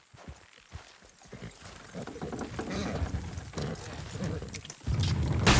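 Hooves clop and creak steadily as horses strain pulling in the video game Red Dead Redemption 2, mixed with a dense rumble of movement and muffled voices, growing louder toward the end.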